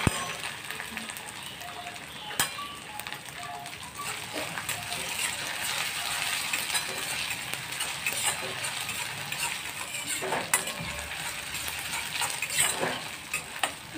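Ginger, garlic and cumin paste sizzles and crackles in a pan with onion and curry leaves, a busy steady frying hiss with scattered sharp pops and a few spoon clinks, no talk.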